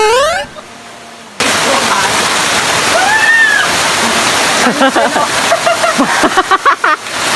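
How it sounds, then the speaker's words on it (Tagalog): Steady roar of a waterfall with rushing, splashing water throughout, loud and close, broken by a brief near-silent gap early on and faint voices toward the end. "pakinggan nyo na lang muna ang tunog ng tubig"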